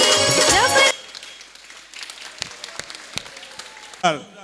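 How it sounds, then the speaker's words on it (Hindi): A burst of loud crowd applause rings out at first, then fades into scattered claps and room noise, with a voice rising briefly at the end. "जोरदार तालियां बच्चों के लिए।"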